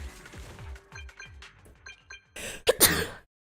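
A couple of harsh, close coughs from someone with a cold burst out near the end, following a stretch of quieter clicks and murmuring background sounds.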